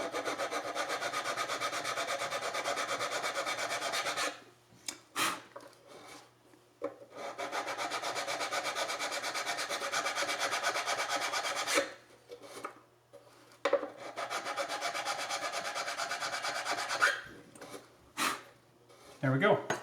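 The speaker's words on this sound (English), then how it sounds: "put the smooth surface, the non-filed side, the smooth surface, down against that in order to file off the glue that's on the edge of the fingerboard" Steel file rasping old crystal glue off the edge of a violin fingerboard, a steady close scraping that runs in long continuous stretches broken by short pauses and a few sharp knocks.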